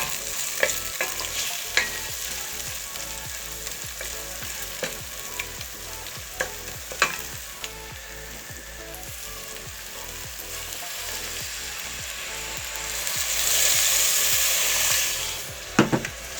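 Tomatoes sauté in a pan for a Turkish dried-bean stew, hissing in a steady sizzle with repeated sharp scrapes and taps of a spoon stirring against the pan. A louder burst of sizzle comes near the end.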